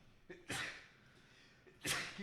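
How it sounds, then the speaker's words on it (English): Two sharp sneezes, each a sudden breathy burst, come about a second and a half apart during a casual comedy podcast chat, with the second one louder. "I have a sneeze as well"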